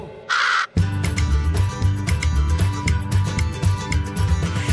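A crow caws within a Christmas song, starting with one sharp, loud caw alone before the music kicks in with a steady beat and layered instruments.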